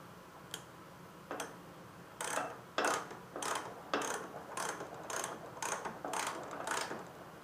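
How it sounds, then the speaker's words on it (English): A ratchet wrench torques down the front axle of a 2014 Honda VFR800 DLX motorcycle during a front tire change, giving a series of about ten close, sharp ratcheting clicks in short bursts, speeding up toward the end, with no talking. "At this point, you can torque down your front axle."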